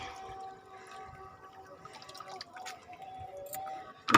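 Homemade liquid fertilizer for fruiting and flowering plants being poured into a container, a thin trickling and dripping stream that is close and fairly quiet, with a louder splash at the end.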